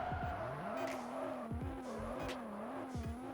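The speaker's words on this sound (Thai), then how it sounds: "เปิดดิฟโหมดก็คือเวลาเข้าโค้งมันจะดิฟ" A car drifting through corners in the mobile racing game Underground Rivals 2, its engine note wavering steadily while tire squeals and skids break out repeatedly.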